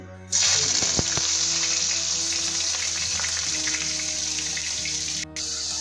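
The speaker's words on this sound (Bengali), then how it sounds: "পেঁয়াজটাকে আমি ভালোভাবে 2-3 মিনিট ধরে ভেজে নেব" Onion paste hits hot oil with a sudden loud sizzle that settles into a steady, close crackling hiss of frying.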